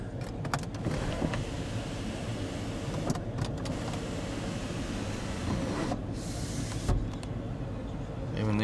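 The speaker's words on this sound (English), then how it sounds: "Power rear shade." Electric motor of the power rear sunshade in a black 2012 Porsche Panamera 4S whirs steadily inside the cabin for several seconds, a low continuous hum with small mechanical clicks, under faint background noise.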